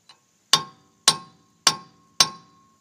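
Four sharp metallic strikes of a hammer on a chisel, evenly spaced about half a second apart, each ringing briefly, after a faint tap.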